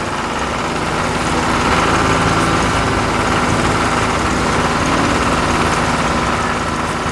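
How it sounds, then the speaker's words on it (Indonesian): A red tractor tilling soil gives off a loud, steady engine drone with a constant rumble and vibration that carries on unbroken for several seconds, with no speech. "sang traktor merah mulai bekerja, membelah tanah dengan penuh semangat"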